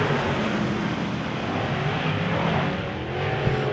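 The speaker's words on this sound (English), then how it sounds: "Top 3 cars right now are all MBs, Mars Brothers race cars." Wissota A Modified race cars roar around a dirt oval track in a steady, loud engine drone with no voices, the pitch wavering slightly as the pack circles.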